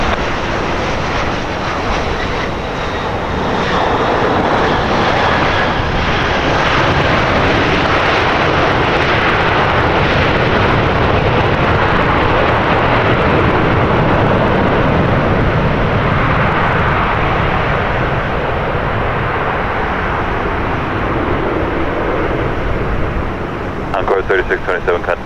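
A Dash 8 turboprop airplane takes off at Portland airport, a loud, steady engine roar that holds strong across the whole stretch, with a voice talking over it.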